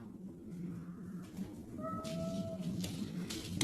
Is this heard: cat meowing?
yes